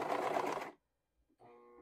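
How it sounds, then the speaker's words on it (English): A sewing machine stitches a neckband in a short, loud burst of whirring, stops, then starts up again with a quieter, steady hum. "I like to sew just enough stitches so that the fabric actually gets"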